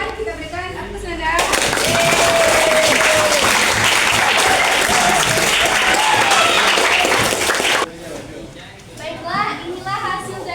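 Applause from a classroom audience after a student drama performance rises sharply, holds as a loud, sustained clapping wash for about six seconds, then cuts off and gives way to children's voices chattering.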